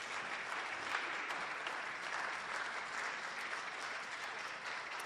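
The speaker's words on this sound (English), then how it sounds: "if we could just give them one more round of applause" Steady, dense audience applause fills a school poetry recitation competition hall, a broad even wash of many hands clapping at moderate level without letting up across the whole stretch.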